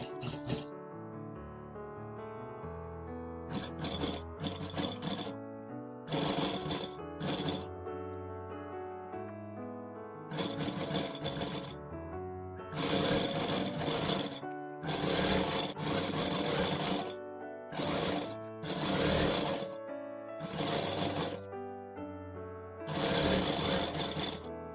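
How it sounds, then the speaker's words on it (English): A sewing machine runs in repeated bursts, stitching a dress seam along a magnetic seam guide, its rapid mechanical whir starting and stopping in close spurts over soft background music. "Using a magnetic seam guide makes sewing in a straight line and having an accurate seam allowance"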